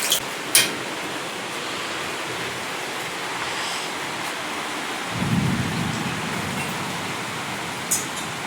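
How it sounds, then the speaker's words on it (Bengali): Heavy storm with steady, dense rainfall, a sharp thunder crack near the start, and a low rumbling swell of thunder about two-thirds through, with no talking. "ঝড় বৃষ্টি হচ্ছে, খুব হচ্ছে"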